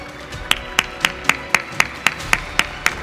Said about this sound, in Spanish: un gran aplauso para todos los que se encuentran en tarima